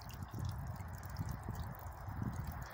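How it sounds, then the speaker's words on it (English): Light drizzle and meltwater dripping outdoors in falling snow make a faint, continuous patter and trickle, soft and even throughout with no voices. "I'm getting drizzled on."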